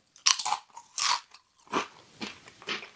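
Crisp bites into a crunchy Japanese potato chip, with several sharp crunching bursts followed by closer chewing crackles in an uneven rhythm, close up and alone.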